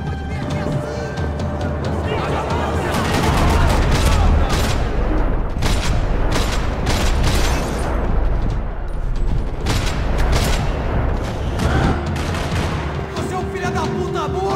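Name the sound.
gunfire in a parking lot, from the video game Max Payne 3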